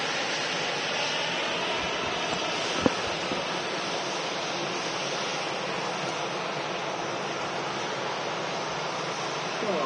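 A Ryanair airliner in from Prague turns off runway 23 at Manchester Airport. Its jet roar fills the whole clip as a steady broadband rush, heard from nearby with no voices.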